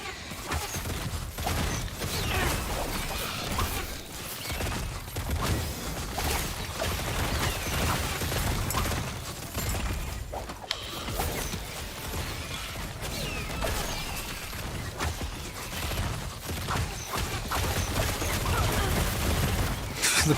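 Explosions in a video game rumble and crash continuously, dense bursts and blasts layered into a loud, busy wash of gunfire-like impacts and mechanical clatter lasting throughout.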